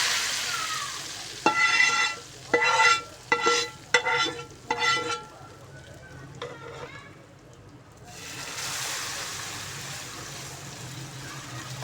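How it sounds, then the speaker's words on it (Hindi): A few sharp metallic clinks and scrapes, a quiet pause, then a loud, steady sizzle of hot tempering oil poured into cooked lentils (dal tadka) that keeps hissing to the end. "अब हम दाल में तड़का लगाएंगे।"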